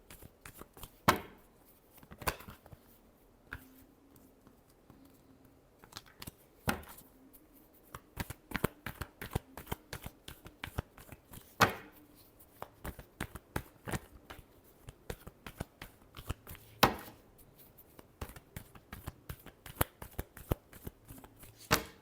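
Tarot cards are shuffled by hand in repeated crisp riffles and soft slaps, a quiet close rhythm of sharp clicks running continuously with brief pauses.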